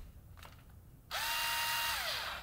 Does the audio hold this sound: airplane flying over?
no